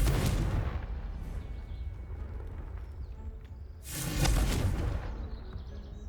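Hogwarts Legacy game audio brings a Confringo spell blast: a loud booming burst at the start and another heavy explosion near the end, amid rumbling combat noise.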